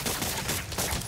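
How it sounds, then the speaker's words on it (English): Enemy gunfire in the Marvel's Spider-Man: Miles Morales video game, a short, dense burst of rapid overlapping shots that stays loud and continuous for about a second. "Firing on Spider-Man! Weapons free"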